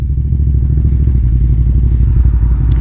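A Suzuki TL1000R sport motorcycle engine idles close by, a loud, steady low throb with a dense rapid pulse that holds even for about three seconds, no voices over it.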